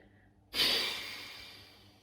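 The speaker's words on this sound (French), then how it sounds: "Puis on expirera à gauche, donc en bloquant la narine droite, mais assez soudainement." A single sudden, forceful exhale through the left nostril with the right nostril blocked during Anuloma pranayama breathing practice, sharp onset after a quiet pause, then a hissing breath that trails off, close to the microphone.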